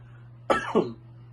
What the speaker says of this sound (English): excuse me, guys, I keep coughing tonight.